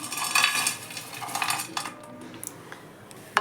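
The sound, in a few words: whole garam masala spices poured into a pan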